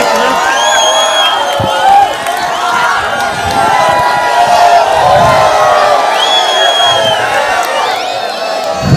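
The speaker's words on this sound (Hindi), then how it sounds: "पूरे हिंदुस्तान के मकबूल रहनुमा पुरजोर तालियों में इस्तकबाल करें।" Rally crowd in Malegaon welcoming a speaker, loud and sustained cheering with shouts and whoops over a steady crowd roar, close and continuous throughout.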